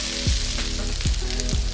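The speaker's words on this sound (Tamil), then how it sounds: "அதையுமே இந்த எண்ணெயில் நல்லா 1லேருந்து 2 நிமிஷம் நல்லா வதக்கிக்கோங்க" Ginger and garlic sautéed in hot oil for a roadside-style egg and capsicum stir-fry sizzle loudly and close up, with a few quick scraping stirs breaking the steady crackle.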